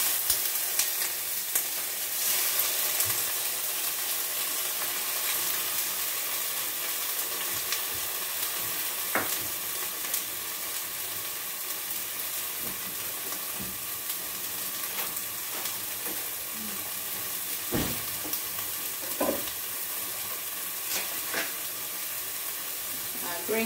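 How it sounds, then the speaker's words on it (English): Onions sizzle loudly in hot grapeseed oil in a pan for coconut curry tofu, a constant dense frying hiss with occasional stirring scrapes and pops throughout. "And go ahead and put the onions in."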